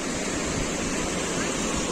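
River water flowing at a fishing spot, a steady broad rushing wash, close and even for the whole moment with no voices.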